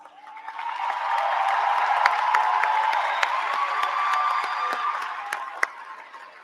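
Applause from a large commencement crowd at a 2024 graduation swells into a broad, sustained wash. Sharp individual claps stand out above it, and the sound fades gently at the end.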